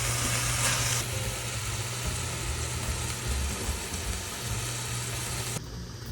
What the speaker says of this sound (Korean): 지글지글 볶아지는 소리와 함께 고소한 냄새가 퍼지기 시작하는데요.